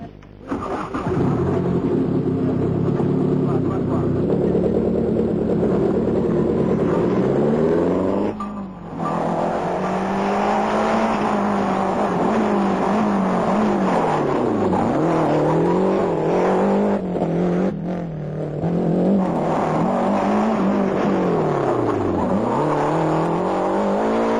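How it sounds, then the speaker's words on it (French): Rally cars from the 1992 Tour de Corse roar and rev continuously, rising and falling in pitch as the car accelerates and shifts, loud and close throughout. "Chaque pilote teste sa voiture de course"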